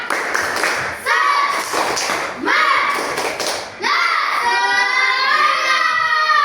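A classroom of children in year five performs a rhythmic spirit clap, bursts of quick clapping interleaved with loud chanting voices, the pattern repeating in short phrases with sustained group singing toward the end.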